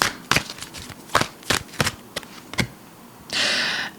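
A tarot card deck is shuffled by hand, giving several crisp separate card snaps and taps and then a short fluttering riffle at the end, close and clear without talk.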